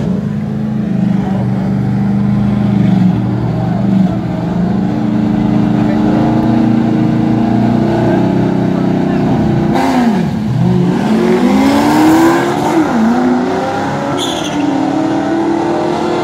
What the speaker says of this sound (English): the black Mustang racing the black and silver